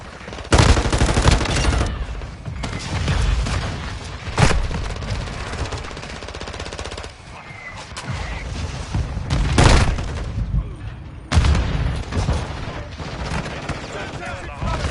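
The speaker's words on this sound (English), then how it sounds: "Hostile mortar strike incoming." Call of Duty: Modern Warfare II multiplayer gunfire and mortar strike explosions, with dense automatic bursts and loud booming blasts repeating over fifteen seconds, while an in-game announcer voice speaks over the chaos.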